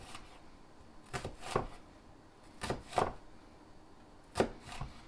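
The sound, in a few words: knife cutting an onion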